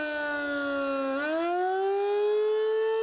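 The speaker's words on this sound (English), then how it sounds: "that siren will go off. It knows that it's a tornado warning and it needs to go off." A tornado warning siren wails steadily, its tone dipping then slowly rising again, loud and sustained with no other sounds.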